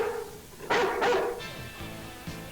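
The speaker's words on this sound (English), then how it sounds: "His bark will both alert you and scare away the prowler at the same time." Guard dog barking near and loud in two sharp barks followed by fainter yips and a whimper, heard alone.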